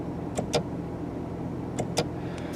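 Two pairs of crisp plastic clicks from a 2017 Maserati Quattroporte S Q4 GranLusso paddle shifter, close up, over a low steady car interior hum.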